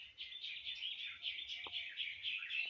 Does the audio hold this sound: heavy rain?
no